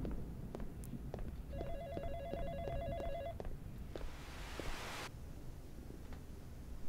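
A telephone rings inside the Sadako horror video game, a faint electronic trill in short bursts over a steady hiss, with a burst of noise and quiet rustling around it.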